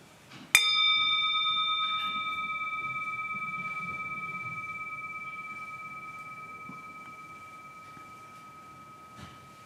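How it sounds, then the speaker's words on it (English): A single bell struck once, its clear ringing tone sustaining and slowly fading across the whole stretch in quiet surroundings, with a faint tap near the end. "I invite you to listen to the sound of this bell, to call yourself into a stillness"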